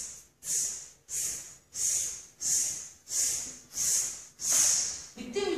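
A voice imitates a coughing snake with seven sharp, breathy hissing bursts in a steady rhythm, each fading quickly before the next.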